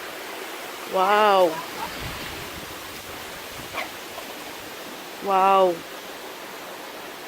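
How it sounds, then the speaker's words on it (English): Waterfall at a nature center, a steady broadband rush of falling water filling the background throughout, with a person briefly exclaiming twice over it. "This is a continuation of the waterfall."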